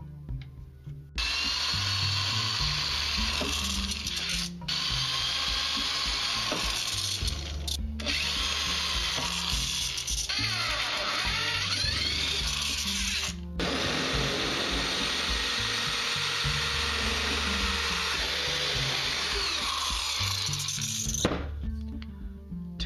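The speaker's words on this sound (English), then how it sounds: "For the outside holes, we're going to use a 7/64 drill bit, and then for the inside, we're going to step drill using 7/64, 1/4-inch drill bit," A power drill bores holes through plates with 7/64, 1/4-inch and 1/2-inch bits, whining loudly and almost continuously with brief dips where the bit changes or breaks through.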